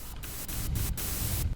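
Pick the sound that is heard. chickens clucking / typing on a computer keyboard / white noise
white noise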